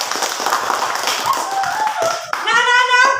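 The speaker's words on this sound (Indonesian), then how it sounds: "Tepuk tangan untuk kita semua." A classroom of schoolchildren claps hands together at close range, a burst of hand claps before a teacher's voice with sustained tones takes over near the end.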